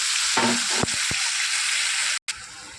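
Mustard paste mixed with garlic and a little salt hits hot oil tempered with black cumin in a frying pan, giving a steady close hiss with a few brief stirring knocks.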